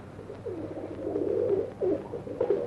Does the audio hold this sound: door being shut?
no